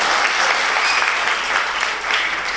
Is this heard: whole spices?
no